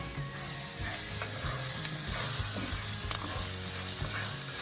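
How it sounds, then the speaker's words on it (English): Onions, peppers and garlic fry in a pan for fried rice, giving a steady broadband sizzle with occasional stirring clinks and scrapes, close and continuous throughout with no talking. "I'm going to add my onions, my peppers, and my garlic, and I'm going to cook this for a second"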